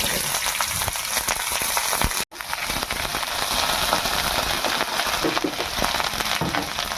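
Ginger paste hits hot oil with spices, a dense, loud sizzle that crackles steadily. It cuts out for a split second, then resumes, close and unbroken to the end.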